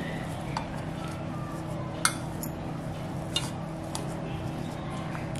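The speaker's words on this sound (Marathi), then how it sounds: "मॅश करून घ्यायचा बटाटा त्याच्यामध्ये" Potato being mashed into a minced chicken mixture for chicken vada pav, giving soft scraping and stirring against a bowl with a few sharp utensil clicks over a steady low background.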